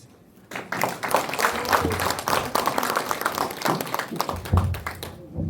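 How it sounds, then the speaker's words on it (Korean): An indoor lecture audience applauds, a sustained burst of many clapping hands that starts abruptly and fills several seconds before thinning out. "좋은 강의 열강해 주신 우리 배현옥 교수님께 다시 한번 큰 박수 부탁드리겠습니다"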